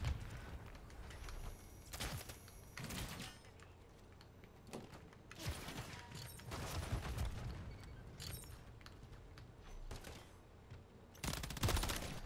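Video game gunfire on the Shipment map in Kill Confirmed mode, heard as quiet repeated bursts and single shots spread irregularly through the clip, low in level with no talk.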